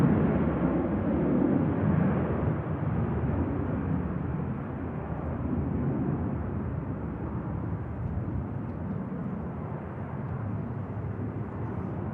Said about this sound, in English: here's the Pegasus that's just touched down now